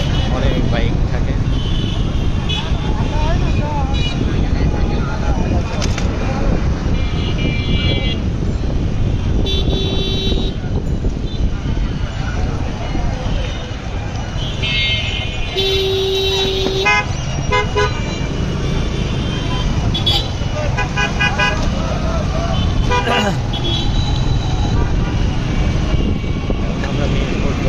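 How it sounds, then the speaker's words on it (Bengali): Dense night traffic jam on a Dhaka street, cars and motorbikes crowding the road with frequent short horn toots and honks over a constant loud engine rumble, voices talking throughout. "রাস্তায় প্রচণ্ড জ্যাম এবং গাড়ি ঘোড়া এবং বাইকের মাত্রা তো অনেক বেশি"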